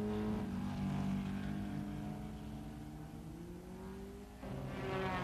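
Vintage racing cars at the 1957 German Grand Prix, a Maserati among them, roar at sustained high revs with engine notes shifting pitch, loud and continuous, with a brief dip before another car surges in.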